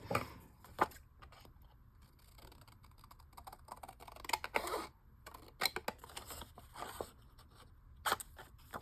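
Scissors cut out paper ephemera for a junk journal, giving faint close snips and crisp paper rustles in irregular bursts against a quiet room, with no talking.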